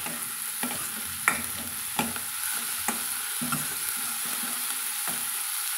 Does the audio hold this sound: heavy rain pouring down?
no